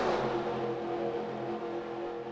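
Engines of race cars in a sim racing game of a Daytona oval race, a steady droning roar of a tightly packed field running nose to tail, fairly loud and continuous without pauses.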